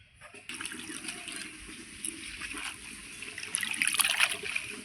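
Leafy bathua greens (bota saak) are rinsed in water, giving a steady run of splashing, trickling and sloshing close by that grows louder and busier toward the end.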